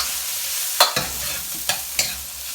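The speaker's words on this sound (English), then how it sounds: "Okay, so we'll stir that around." Chicken and vegetables for a Thai green curry stir-fried in a hot pan, with a few distinct scraping stirs of a utensil over a close, continuous sizzle.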